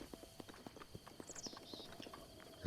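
Horse hooves clip-clopping at a steady walking pace in Zelda Breath of the Wild, a light rhythmic patter of close, moderately quiet steps with a faint ambient bed underneath.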